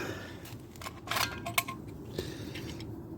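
Recoil starter rope is cut during a repair, a couple of sharp snips close by over a steady low background hum.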